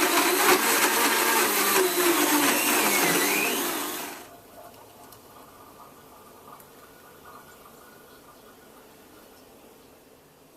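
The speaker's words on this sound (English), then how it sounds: "Now blend this for about 30 seconds on high" A blender running on high, whirring a strawberry chocolate ice cream smoothie with whole milk and coconut milk, a loud, close, steady roar that stops abruptly after about four seconds, leaving quiet room tone.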